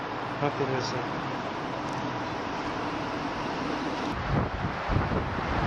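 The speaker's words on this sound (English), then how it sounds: "It's very windy today." Strong wind in the Black Hills roars steadily against the microphone, a constant heavy rumble with gusts swelling near the end and no voices.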